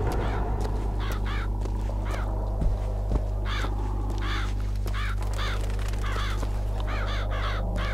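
Crows in Bioshock Infinite cawing repeatedly in short, harsh bursts that overlap at varying distances, over a steady low drone of background ambience and occasional soft thumps.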